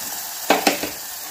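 Blended tomato puree tipped into hot oil for a spicy Maharashtrian brinjal curry, giving two or three quick bursts of sizzle and stirring clatter up close before settling to a low fizz.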